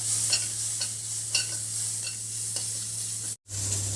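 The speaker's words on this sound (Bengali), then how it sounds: "এরপর দেবে পেঁয়াজ ফোড়ন। পেঁয়াজ ফোড়ন দিচ্ছে।" Chopped onion sizzles in a little oil for pomfret jhal, a continuous crackling fry with soft, regular scraping stirs and a low steady hum, briefly cutting out near the end.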